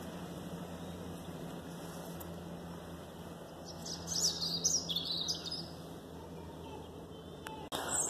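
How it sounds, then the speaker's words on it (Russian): Small birds chirp and twitter outdoors in sunny England in winter, with mimosa in bloom. A short burst of bright calls rises midway over a steady outdoor hum, and no voices are heard. "И фантастически поют птицы."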